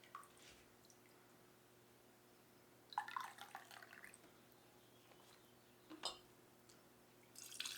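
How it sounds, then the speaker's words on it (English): Beef broth drips from the bottom of a canning scoop during home canning, a few faint scattered drips and splashes spaced seconds apart in a quiet kitchen. "there's a lot of dripping happening from the bottom of this scoop"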